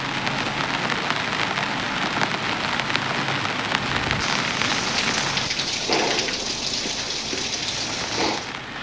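Heavy monsoon rain in Chikkamagaluru, in the hilly Malnad region, pours down in a dense, loud, unbroken hiss of water striking surfaces, with close splashing and no voices.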